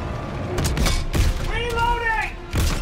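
Tank cannon fire and explosions in the World War II shooter Call of Duty WWII, loud booms and crashing bursts spread through the clip, with a rising whine in the middle and a last heavy blast near the end, over dense game noise.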